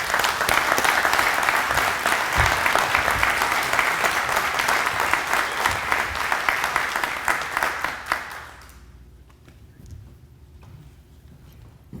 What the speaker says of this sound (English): So please, a round of applause for Healthy Visions and Ron.